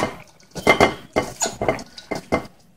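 Utensils clink and scrape against a bowl while Lao steamed fish salad (naem pa) is mixed by hand, in a run of about six close, fairly loud bursts with short pauses between.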